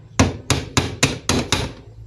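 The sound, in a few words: hammer tapping a part of a Kirin mixer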